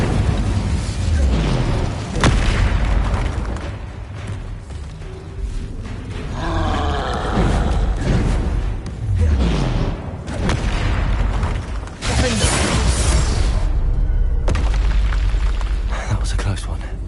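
An Incendio fire spell blasting in a wizarding video game, a loud roaring, booming whoosh with rumbling bursts amid busy game effects and music, with a player's voice calling out spells over it.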